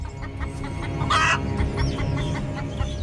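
Chicken clucking in the Australian wild as a snake goes after it, a burst of raspy calls around the middle over steady background noise, a few softer clucks scattered before and after.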